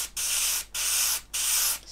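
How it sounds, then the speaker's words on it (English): Three long hissing bursts of spray onto tissue while building an Airfix Mosquito PR XVI model kit, each lasting about half a second, separated by short pauses, close and steady. "spray the tissue"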